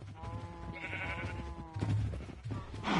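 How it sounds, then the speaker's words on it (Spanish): Sheep bleating in the video game Minecraft, a couple of short wavering bleats rising over steady in-game background noise, fairly close and moderately loud. "Tengo una oveja, café."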